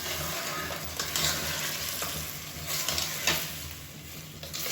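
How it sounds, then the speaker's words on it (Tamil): Marinated chicken stirred and sautéed in a pan for a gravy, with continuous close sizzling and repeated scraping spatula strokes in an uneven rhythm. "இப்போ நல்லா பரட்டி விட்டுக்கலாம்"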